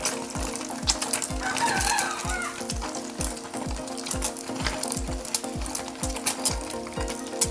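Egg and bread fry in a pan for egg toast, a soft steady sizzle under a regular series of dull low thumps, close, with a faint tonal hum in the background.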